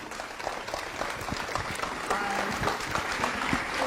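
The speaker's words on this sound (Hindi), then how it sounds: "तालियां" An audience gives warm, continuous applause for a performer at a gathering, a dense wash of clapping held at an even level, with voices faintly mixed in.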